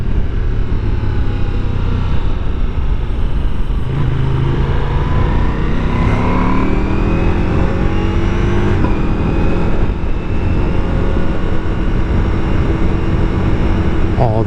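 A Ducati Multistrada V4 Rally sport touring motorcycle engine runs loud and close while riding, rising and falling through gears with shifting engine tones and constant wind rush.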